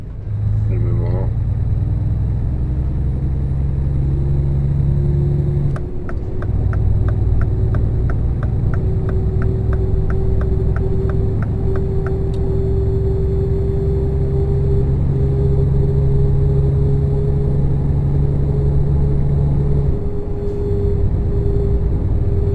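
A truck engine drones steadily while climbing onto the motorway in Euro Truck Simulator 2, a loud low rumble with a rising whine and a ticking indicator in the middle, continuous for over twenty seconds.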